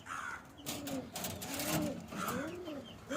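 Pigeons in a home loft coo steadily and close by in soft, overlapping rolling calls, with some rustling and fluttering around them.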